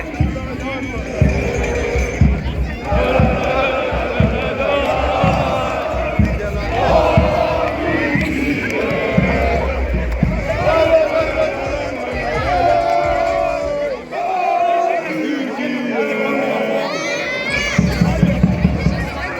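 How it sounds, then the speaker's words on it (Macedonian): A packed town square of football fans in Offenburg, Germany, before a match, with a dense, lively crowd roar, shouts and chants swelling and dipping throughout while a reporter talks close by. "Тука сме ние меѓу навивачите."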